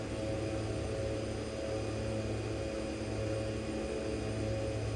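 Engines of a Twin Otter aircraft in the X-Plane 11 flight simulator, climbing out after takeoff from a short runway at Lukla, a steady droning hum with tonal whine held throughout.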